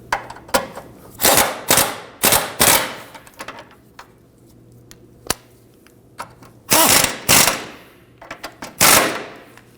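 A ratchet with a 12mm socket snugs bolts during front lower ball joint replacement on a 2013-2015 Subaru XV Crosstrek, giving sharp clicking bursts in short repeated groups with quiet gaps between.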